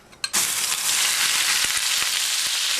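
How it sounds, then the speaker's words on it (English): Garlic and cilantro hitting hot olive oil in a pan, a sudden burst of loud sizzling that stays strong and steady, with a few faint taps of stirring. "we're going to saute now half of the garlic, and of course also always using olive oil"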